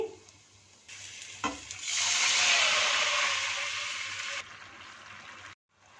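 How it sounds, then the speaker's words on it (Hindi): Tamarind water pours into a hot pan with a sudden loud hiss that holds steady for a few seconds, then drops away to a quiet simmer. "इसके साथ ही इसमें इमली का पानी शामिल कर देंगे।"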